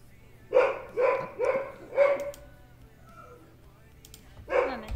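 A dog barks close by, loud and insistent: four quick barks in a row, a brief pause, then one more bark.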